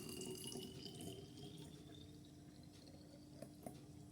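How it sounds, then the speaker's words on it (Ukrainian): Settled water is poured into a small bottle while repotting houseplants, a steady close trickle and splash that runs continuously and quietly with no talk over it. "Зараз нальємо у пляшечку водички."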